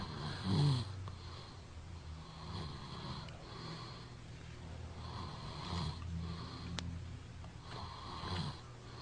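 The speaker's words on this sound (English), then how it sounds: "If we wait another minute, I think it's going to be all out snoring" A man sleeping on his back snores steadily and close, several rough rasping breaths in a slow regular rhythm over a low constant hum, with no one speaking.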